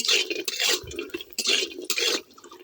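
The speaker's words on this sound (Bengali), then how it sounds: "এখন আমি ওই তেলের মধ্যে বড়িগুলোকে ভেজে নেব" Homemade lentil dumplings (bori) frying in oil: close, bubbly hissing comes in several bursts, mixed with light clatter from a utensil against the pan, with no talking.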